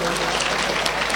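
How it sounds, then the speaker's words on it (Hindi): Audience applause at a devotional Manas mandali recital, a dense, steady wash of many hands clapping that holds at an even level through the whole moment. "एक हाथ जोरदार ताली बजाओ भाई।"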